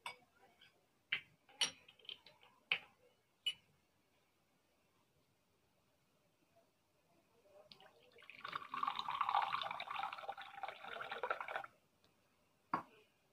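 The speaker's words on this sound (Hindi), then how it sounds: "अब मैं इसमें पानी डाल रहा हूँ" Water is poured into a water-soluble vegan omega-3 oil for about three seconds, a soft, close splashing pour that follows a few sharp isolated clicks and is followed by another click.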